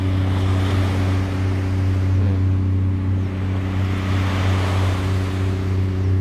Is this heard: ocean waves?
yes